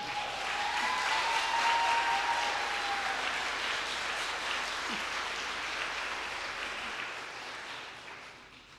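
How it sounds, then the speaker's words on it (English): A large audience at a School of Nursing pinning ceremony applauds the nursing faculty: dense, steady clapping that stays loud for several seconds, then begins to fade toward the end. "Please give them all a round of applause"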